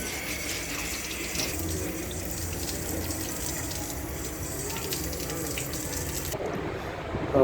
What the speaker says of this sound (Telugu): ఎక్కువ ఫోర్స్ లేని వాటర్తో నార్మల్గా వచ్చే వాటర్తో ఇలా క్లీన్ చేసుకోవాలి